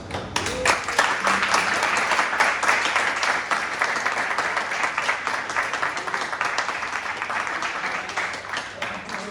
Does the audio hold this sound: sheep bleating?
no